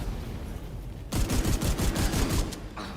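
Shotgun fire in The Division 2 breaks out after a quiet low rumble as a fast run of loud, close, punchy blasts lasting about a second and a half, then a shorter burst follows, with no talk.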